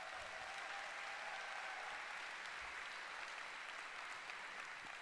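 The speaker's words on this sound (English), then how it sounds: "give yourselves a round of applause" Steady, dense applause from a conference audience fills the whole stretch, loud and unbroken, with no voice over it.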